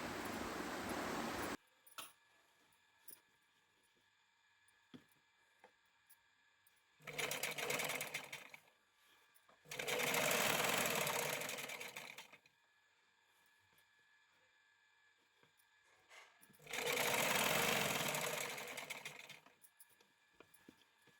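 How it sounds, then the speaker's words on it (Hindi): A sewing machine stitches a belt onto an open palazzo in three or four close, loud bursts of rapid whirring, separated by quiet pauses. "इसके ऊपर बेल्ट रख के सिलाई लगा देंगे। देखो इस तरीके से रख के अब सिलाई लगा देंगे।"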